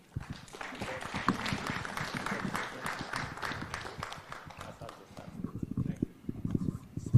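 Audience applause at an innovation awards ceremony at State House, Nairobi, a dense wash of clapping that swells and holds steady for several seconds, with a speaker's voice running faintly beneath it.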